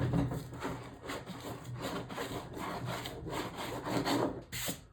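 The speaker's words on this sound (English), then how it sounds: "you want to cut it off with a razor blade" A razor blade saws back and forth through cured foam filling a damaged hollow core door, making a close, rhythmic rasping scrape with steady strokes and no talk.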